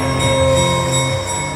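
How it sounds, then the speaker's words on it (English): Steady train bells ring continuously at a moderate distance on the Whitewater Valley Railroad, layered over a constant low rumble with no talking. "You can hear the bells in the background."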